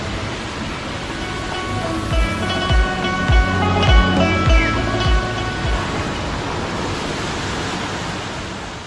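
A loud, steady wash of falling water near a rocky path fills the whole stretch with broadband hiss, with a series of rhythmic low thumps in the middle.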